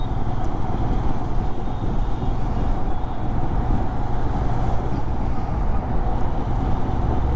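Heavy Delhi road traffic makes a dense, loud, unbroken rumble of engines close by, heard steadily throughout from a moving ride.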